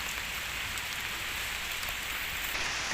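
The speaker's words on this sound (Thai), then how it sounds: "เฝนตกจ้ะพี่น้อง กลางใส่ฝนเลยจ้ะ" Steady rain falls during mushroom foraging in a Thai forest, a dense, even hiss of drops hitting leaves and ground, close and continuous with no voices.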